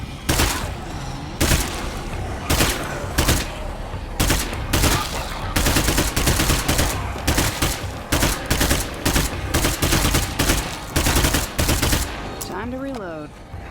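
Rapid bursts of video game gunfire in State of Decay 2, dense and repeated in short volleys with brief pauses between, loud and close.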